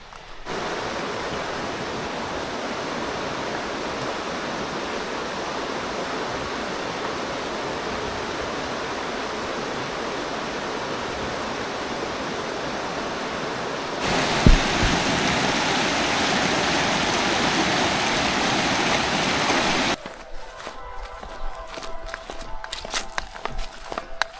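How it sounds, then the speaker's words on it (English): Water rushes steadily and loudly, a constant broadband stream flow close by on the Appalachian Trail, shifting slightly in tone partway through before fading to a quieter, rustling background. "you've got the running water and everything"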